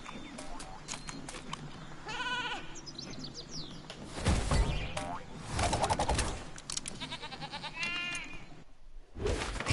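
A cartoonish Sheep Creep enemy in the Skylanders Trap Team video game bleats repeatedly amid springy boings, chirps and game effects, loud and busy throughout.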